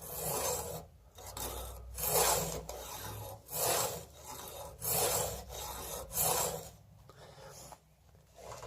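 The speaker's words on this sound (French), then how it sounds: "quand on fait un affûtage, donner premièrement des coups de lime complets" A hand file strokes a chainsaw chain during sharpening, giving steady rasping passes about once a second, close and fairly loud, with no voices.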